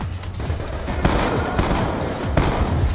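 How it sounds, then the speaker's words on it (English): Black Ops 2 game combat in a hidden base: rapid, loud bursts of gunfire from a ceiling gun turret mixed with heavy shotgun-like blasts, firing almost continuously with a few sharper peaks. "The secondary fire looks like a shotgun."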